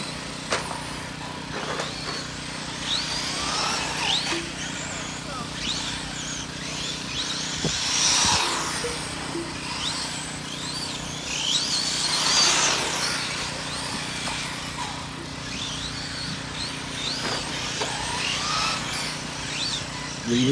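RC 4x4 short course trucks race around an indoor track, their electric motors whining in rising and falling passes that swell loudest twice as they sweep by, over a constant low background hum.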